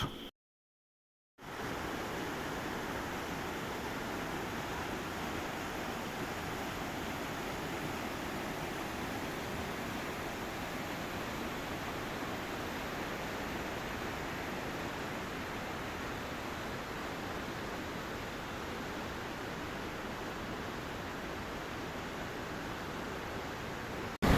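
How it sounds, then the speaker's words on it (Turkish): A rushing mountain stream, the spring-fed source of a creek flowing out of a cave, pours in a constant dense roar of water. The sound is steady and full after a brief silent start, with no voices. "suyun sesi o kadar coşkun akıyor ki ki bu videoda sesim duyulması için videonun sesini bayağı bir kıstım"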